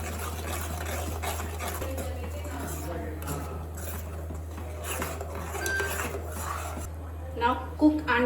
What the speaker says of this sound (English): Now add red chili powder, turmeric, salt,